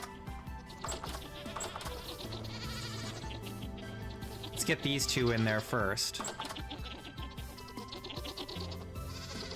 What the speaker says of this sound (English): Herding goats is the worst, but at least they're easy to milk compared to the sheep.